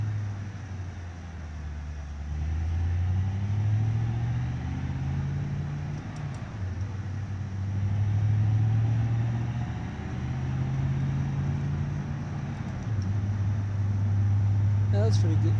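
A car engine in a driving video game played with a steering wheel drones steadily throughout, its pitch rising and falling as revs climb and drop through gear changes, with a brief shift pause near the middle.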